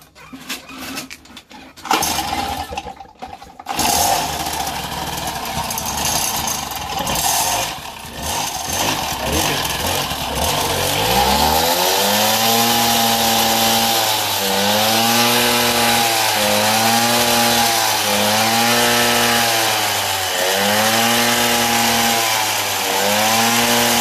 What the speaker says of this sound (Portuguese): Temos um motor 75 cilindradas funcionando